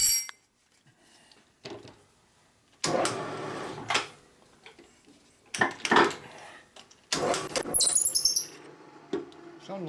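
A drill bores a new hole in a rusty 1952 Harley-Davidson panhead four-speed transmission case, turning without lube, in four or five loud, harsh bursts separated by near silence, with a thin squeal near the end.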